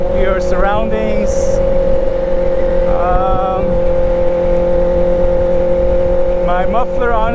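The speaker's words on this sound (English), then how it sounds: "My muffler honestly is a little bit too loud because it takes away from the enjoyment of the bike" A motorcycle fitted with a loud muffler holds a steady, close engine drone throughout, with faint voice-like sounds briefly riding over it.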